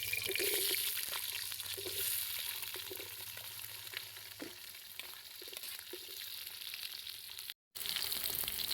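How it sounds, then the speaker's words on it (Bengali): Potatoes frying in a pan for a Bengali murighonto fish-head dish, a steady close hiss and sizzle with faint crackles and a few stirring scrapes throughout, no voices. "এখন আমি মুড়ি ঘন্টের জন্য আলুগুলো ভেজে নেব।"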